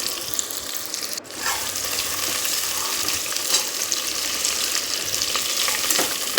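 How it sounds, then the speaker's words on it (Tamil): Sliced onions frying in oil for mushroom biryani, a loud dense continuous sizzle that runs throughout, with faint stirring noises underneath. "அதை வந்து நம்ம எண்ணெயில் போட்டுடலாம் நல்லா ஒரு கோல்டன் ப்ரௌன் ஆகிற அளவுக்கு நல்லா வந்து அதை ஃப்ரை பண்ணி எடுத்துடலாம்"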